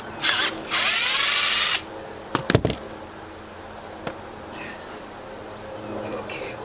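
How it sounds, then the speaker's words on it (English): A Harbor Freight power drill whines in two short bursts, driving a lag bolt into a rotted wooden picnic table, followed by sharp clanks of handling and quieter workshop noise. "Harbor Freight, you can hold back the damn drill just about."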